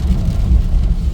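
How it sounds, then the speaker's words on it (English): Wind-driven rain drums steadily on a car during a dark, misty drive out of Fort William toward Glencoe, a loud, close, low rumbling wash with no voices. "It's getting a bit dark, a bit windy, and a bit rainy, and a bit misty."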